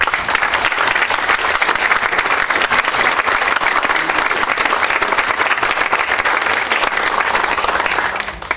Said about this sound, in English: Let's hear a warm round of applause.